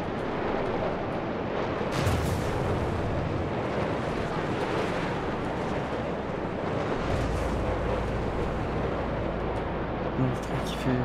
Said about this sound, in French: Le bruit de tes moteurs, c'est une dinguerie.